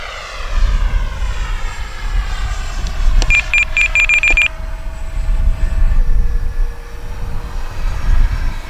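A Freewing F-16 70mm electric ducted-fan RC jet in Arctic camo whines steadily overhead on its maiden flight, its pitch shifting as it passes, with brief electronic beeps partway through.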